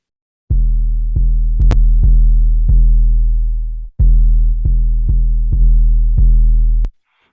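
Saturated 808 bass from a rap mix, Softube saturation thickening it with rumble: a string of heavy, sustained low booms in an uneven rhythm, each note ringing on before the next hits, loud and close with no talking.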